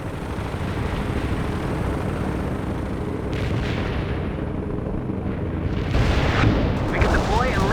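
Artillery fire-support explosions in the World in Conflict battle game: a dense, continuous rumble of distant blasts and booms, building louder near the end with sharper crackling impacts, under radio chatter.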